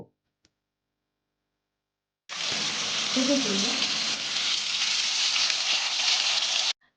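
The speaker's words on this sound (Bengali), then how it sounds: "তেলটা গরম হলে এর মধ্যে বড়িগুলো দিয়ে লাল লাল করে ভেজে নেব" Lentil dumplings (bori) hit hot oil in a wok and fry with a loud, steady hiss that starts abruptly after a short silence and holds for about four seconds.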